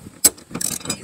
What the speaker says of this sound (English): you take this 12 millimeter loose right here that holds the seat belt